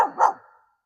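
A single sharp dog bark, close and loud, trailing off quickly into silence.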